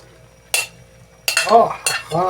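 Vegetables tipped into a hot pan for a simple home-cooked dish: a couple of sharp clinks and scrapes followed by bursts of sizzling as they hit the oil, close and fairly loud.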